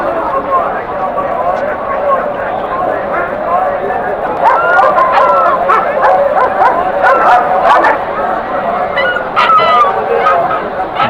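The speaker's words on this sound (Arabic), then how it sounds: "جرو بيت بول" A pit bull puppy at a busy pet market lets out short yips, barks and whimpers amid constant crowd bustle, with people talking throughout.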